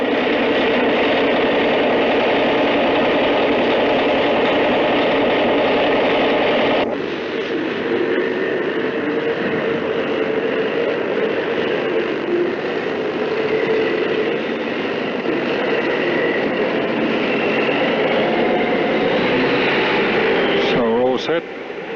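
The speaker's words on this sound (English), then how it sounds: "we've got the big 3306 Caterpillar 6-cylinder diesel turbocharged, which drives this DJB along" A turbocharged Caterpillar 3306 six-cylinder diesel in a DJB locomotive runs close by with a steady, loud, broadband drone that changes tone partway through and keeps going without a break.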